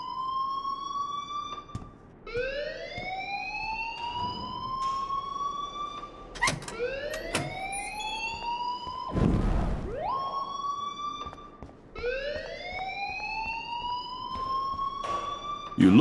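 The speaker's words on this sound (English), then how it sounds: "please turn off that alarm since that's your job" A school alarm in the video game Life is Strange Remastered, a siren-like electronic tone sweeping upward and holding, repeating in steady cycles every few seconds at moderate volume with no talk over it.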